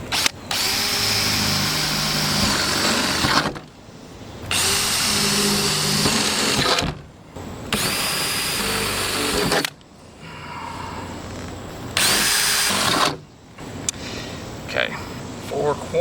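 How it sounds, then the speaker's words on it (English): A power drill bores holes through the corners of a van roof opening for a Maxx Air fan install, running in four long loud bursts separated by short pauses with brief background sounds. "We're gonna drill a hole in each 4 corners"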